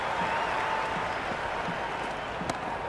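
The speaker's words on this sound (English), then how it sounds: "It's almost palpable, the excitement emanating from this crowd at the moment." Cricket match crowd cheering and applauding, a steady dense wash of clapping and crowd noise from a large stadium audience, loud and continuous throughout with no clear speech on top.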